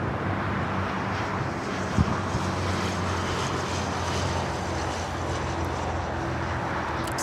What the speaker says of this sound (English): Air China starting takeoff roll on the north side.